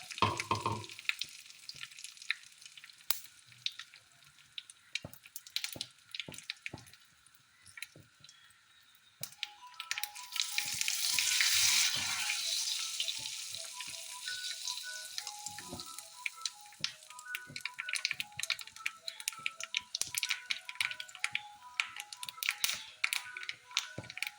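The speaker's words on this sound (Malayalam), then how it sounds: "ഇതിനും കടുകൊന്ന് നന്നായി പൊട്ടിക്കഴിഞ്ഞാൽ" Rapid crackling and popping of mustard seeds in hot oil, with a louder sizzling burst midway and scattered sharp pops throughout; no voices.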